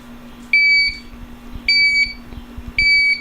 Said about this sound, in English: as soon as you get an alarm on a carbon monoxide detector